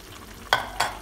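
Sambal with tempe-style oncom and bean sprouts stir-fried in a pan for Indonesian tumis, giving two short bursts of sizzling and stirring scrapes against a quiet background.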